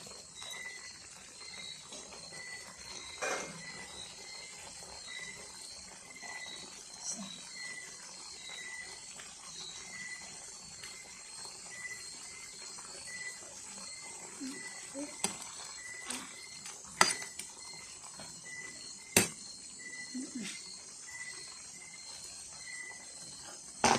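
Frogs croak in a steady, evenly spaced rhythm of repeated calls, moderately distant, over a quiet background broken by a few sharp clicks.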